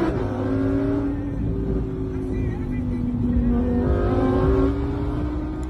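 A Lamborghini Huracan Performante engine holds a loud, close, steady droning note with slight swells as it revs, running continuously without a break.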